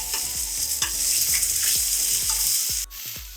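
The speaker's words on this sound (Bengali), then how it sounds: "এই সময় গ্যাসের ফ্লেমটাকে মিডিয়ামে রেখে ফুলকপিগুলোকে ভাজতে হবে।" Cauliflower florets frying in oil over a medium flame, a steady bright sizzle with repeated clanking spoon strokes against the pan, loud and close, then a brief drop near the end.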